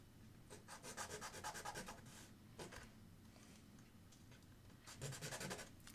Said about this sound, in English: We're going to use some sandpaper just to smooth those lines out.